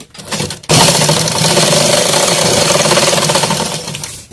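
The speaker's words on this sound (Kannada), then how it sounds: "ಇಲ್ಲೊಂದು ಸ್ಟೇಟ್ ಹೊಲಿಗೆ ಹಾಕೊಂಡ್ಬಿಡ್ರಿ" A sewing machine stitching a katori blouse runs loud and close in a steady, continuous mechanical whir after a short pause, with no speech.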